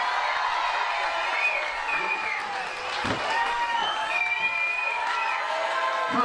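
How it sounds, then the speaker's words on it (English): A crowd applauds and cheers at an outdoor chilli eating contest at a chili festival, with continuous dense clapping, whoops and shouts throughout. "give her a huge round of applause"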